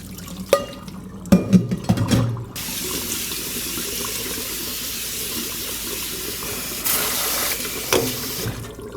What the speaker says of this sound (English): I'm just going to give that a rinse in some cold water